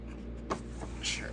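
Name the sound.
fountain pen writing on paper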